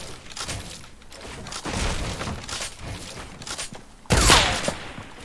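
Sniper rifle shot in Fortnite during a duos match, one loud sharp crack near the end after a stretch of busy in-game gunfire and action noise.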